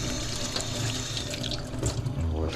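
Water from a kitchen tap runs steadily into a sink for hand washing, a close, continuous splashing rush with faint sounds of movement mixed in.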